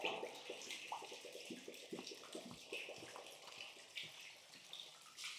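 Well water pours from a hose into a septic tank, a faint, steady splashing and trickling stream with small irregular drips, heard alone and fairly distant.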